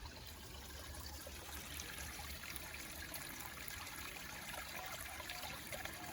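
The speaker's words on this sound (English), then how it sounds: "listen to the sounds of the water running through the rocks" Creek water running over rocks in an Australian bush setting, a steady faint trickle and babble heard from a short distance, continuous and unbroken, with no voices.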